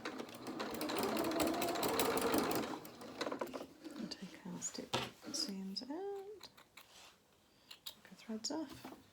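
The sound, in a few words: sewing machine reverse stitching dungarees seam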